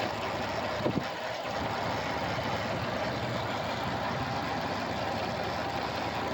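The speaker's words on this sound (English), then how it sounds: "I got it running. Engine sound good." A Jeep Liberty engine idles in a steady, low rumble continuously at close range, with a faint clunk near the start and no voices.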